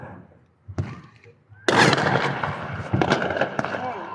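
Small fireworks pop and crackle nearby, with a sharp early bang and then a dense burst of crackling and fizzing with several louder pops, while a voice talks in the background.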